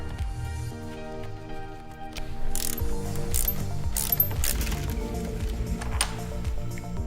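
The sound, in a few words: ratchet with T50 bit removing Jeep Wrangler roof bolts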